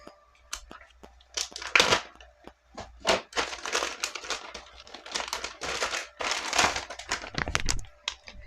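Crinkling and rustling of a plastic bag being opened and handled, with crisp crackles and short pauses, as a Fanhome Back to the Future DeLorean model kit issue is unpacked up close.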